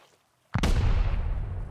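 A sudden loud explosion in the survival game Rust bursts out of near silence, then a broad rumbling roar rolls on and slowly fades.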